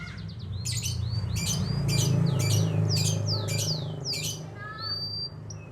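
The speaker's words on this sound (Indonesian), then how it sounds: "Saya tuh senang teman-teman kalau ngelihat burung gacor seperti ini ya." A songbird sings a run of bright, rapid chirps and whistled trills, close and clear, over a low steady background hum.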